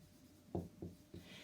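Pen or chalk strokes during a probability lecture, three short scratchy marks spaced about a quarter second apart, close and fairly quiet, with no talking.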